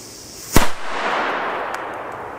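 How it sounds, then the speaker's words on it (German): One loud Komet D-Böller firecracker bang near the start, sharp and close, with a rolling echo fading across the open air afterward. "Komet D-Böller."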